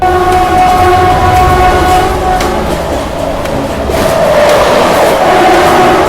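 Tejas Express from Mumbai to Madgaon, heard at close range as a loud, continuous rumble with a sustained horn-like tone running through it and a brief dip partway through.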